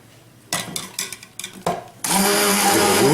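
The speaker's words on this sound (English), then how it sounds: "rev up my little handheld blender" A handheld immersion blender whirs in short bursts as it mixes chopped garlic with oil, a few stuttering pulses before settling into one loud, continuous high whine.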